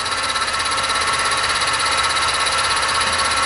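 A fly cutter cutting metal on a mini mill at about 1000 RPM gives a loud, steady, unbroken machine drone with a dense grinding texture up close.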